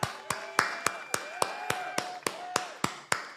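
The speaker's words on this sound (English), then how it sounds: "Let's clap for me, bro." Sharp, close handclaps at a live show, about a dozen single claps in a steady, evenly spaced rhythm, with a faint voice and background tones between them.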